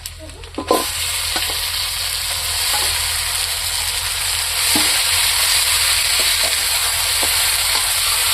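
Potatoes hit hot oil seasoned with panch phoron and garlic, setting off a steady, loud sizzle that holds for several seconds, with occasional scrapes and knocks of stirring in the pan.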